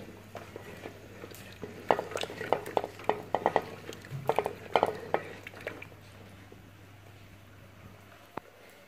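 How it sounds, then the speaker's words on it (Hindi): Spoon stirring thick beef nihari in a cooking pot, a run of irregular clinks and scrapes against the metal clustered in the middle, fairly close, fading to quiet at the end. "अच्छी तरह से इसको हिलाना है।"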